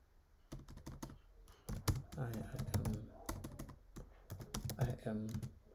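Typing on a computer keyboard while coding a React form: quick clusters of light key clicks, close by, mixed in with someone talking steadily over them.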